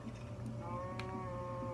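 A cow in a video game lets out one sustained, drawn-out moo, harmonic and steady across the whole short stretch, close and clear with no talking.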